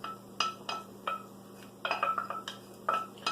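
Beurre blanc sauce is strained to remove onion, garlic and pepper solids, a spoon pressing it through a metal strainer; several light, separate metallic clinks and scrapes ring out in close succession against a steady low hum.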